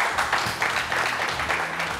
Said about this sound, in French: On applaudit Tonton Bouba, s'il vous plaît.